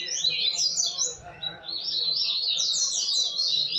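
A Coleira (Sporophila) songbird sings up close in a feed shop, rapid bright twittering phrases repeating almost continuously with a brief pause midway, faint indoor background beneath.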